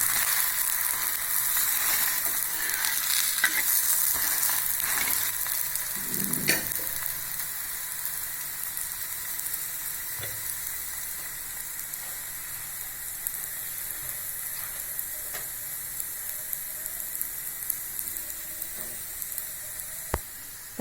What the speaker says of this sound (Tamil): நம்ம எண்ணெய் ஊற்றிக்கணும் மேலே கொஞ்சம். வேகட்டுங்க.